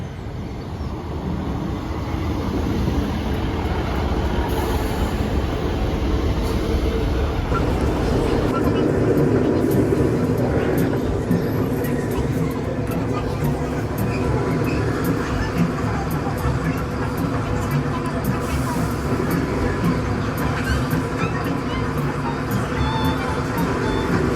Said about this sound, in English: look behind me, here it comes